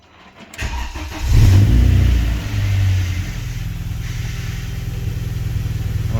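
A BMW 316i E46 engine cranks briefly and catches, roaring up loudly before settling into a steady, close idle rumble.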